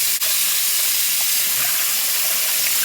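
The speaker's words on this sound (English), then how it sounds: "I'm just going to let the water run through them." Steady broadband rushing hiss of tap water running over potatoes, close by, with a brief click near the start and no voices.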